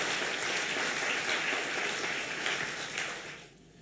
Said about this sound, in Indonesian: Beri tepuk tangan dulu untuk Tuhan kita